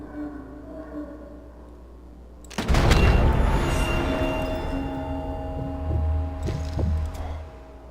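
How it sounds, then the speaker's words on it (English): A single pistol shot in the video game Sniper Elite 4, a sudden loud blast over low ambient rumble that fades into reverberating debris, with a few smaller thuds following. "I'm going to show you the pistol. This is a single shot."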